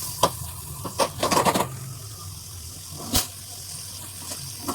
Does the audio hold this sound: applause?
no